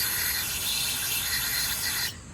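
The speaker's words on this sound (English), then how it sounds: "Here I'll clean the grease or oil from that area" A steady rubbing swipe as grease and oil are wiped from the cracked block of a Kohler Courage 20 hp single-cylinder engine, fairly close and continuous for about two seconds before cutting off abruptly.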